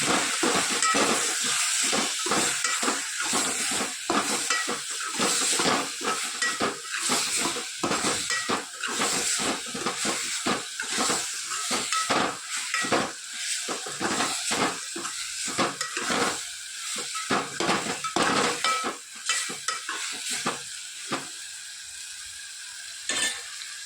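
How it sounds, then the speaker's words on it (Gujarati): Onions, tomatoes and spinach fry together in a pan, giving a loud, steady sizzle broken by frequent scraping stirs across the full stretch, with no talking. "ડુંગળી અને ટામેટા સળે છે, સાથે સાથે આપણે પાલક પણ નાખી દઈએ."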